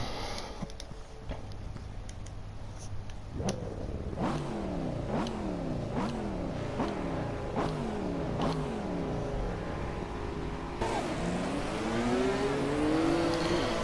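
Porsche race cars roar off the line at the start of a race, engines revving loudly in repeated rising gear-change sweeps as several cars accelerate and pass close by, a dense continuous wall of engine noise.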